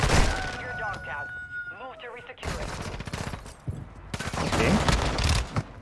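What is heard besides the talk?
gunfire in Call of Duty Warzone video game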